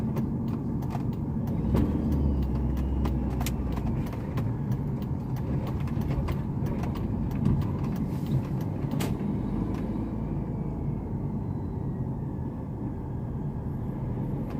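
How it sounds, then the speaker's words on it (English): A utility truck creeps slowly along a road, its steady engine rumble and tire noise holding close and loud for the whole stretch before easing slightly toward the end. "truck, utility truck, and he just turned on this road, and boy is he going slow."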